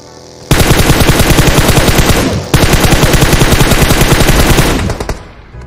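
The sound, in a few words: gunfire from a shooter video game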